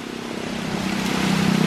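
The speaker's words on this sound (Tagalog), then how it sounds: "Sobrang lakas ang hangin." Steady roaring rumble of strong wind buffeting the microphone, building slightly louder over a short stretch, with no talking.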